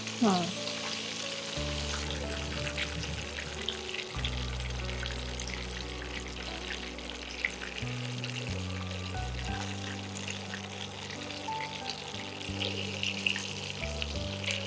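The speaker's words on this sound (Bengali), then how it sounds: "এবারে ব্রাউন হয়ে গেছে, ঠিকঠাক করে ভাজা হয়ে গেছে" Keema cutlets frying in oil, a steady close sizzle that runs throughout with faint stirring and clinks, no one talking.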